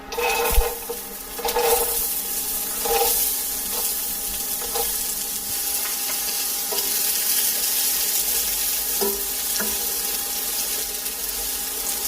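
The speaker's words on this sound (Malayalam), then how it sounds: "ക്യാരറ്റ് ഒന്ന് വഴന്ന് വരണം" Chopped carrots sauté in a pan that already holds fried cloves and bay leaf, giving a steady, moderate sizzle with a few soft stirring clatters near the start and no talk.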